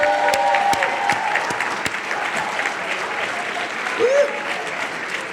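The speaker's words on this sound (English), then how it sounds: "Let's give her another round of applause." Audience applause at a formal fundraising gala and silent auction, a dense steady wash of many hands clapping with a few brief voices and a short whistle-like tone mixed in.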